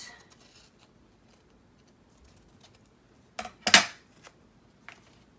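Scissors cutting a small piece of printed tissue paper, a short close cluster of crisp snips and rustles after a near-silent stretch, followed by a faint tap.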